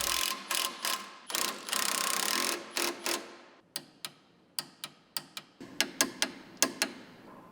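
A hand ratchet clicks while front link bolts on a Yamaha Wolverine RMAX are tightened, with quick runs of crisp close pawl clicks at first, then slower, separate single clicks spaced out toward the end.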